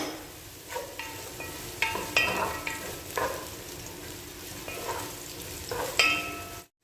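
Ginger and onion hitting a hot pan and sautéing for a Filipino squid and squash coconut stew, a soft continuous sizzle broken by several scraping stirs of a utensil, close and fairly quiet.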